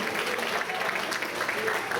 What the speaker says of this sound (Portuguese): Quem pode aplaudir nesta noite o Cristo do Natal